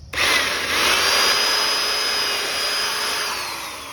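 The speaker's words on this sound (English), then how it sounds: "we're just gonna drill that hole" A power drill whirs up sharply and runs steadily at high speed, loud and close, easing slightly toward the end.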